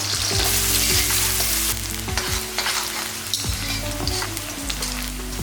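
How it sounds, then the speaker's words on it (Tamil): Chopped onion and green chili fry in hot oil in a pan, giving a continuous close sizzle broken by repeated scraping stirs from a utensil. "இதுலேயே 1 பெரிய வெங்காயத்தை இந்த மாதிரி கட் பண்ணி போட்டுக்கலாம்"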